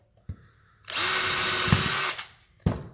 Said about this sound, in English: And I'd like to pre-drill the MDF.